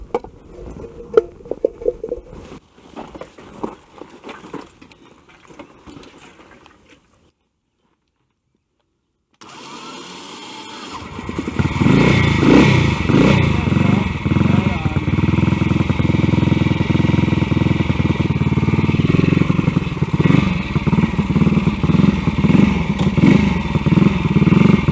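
Some clattering and knocking, a brief silence, then an Aermacchi race motorcycle engine starts and keeps running with a loud, steady, throbbing idle.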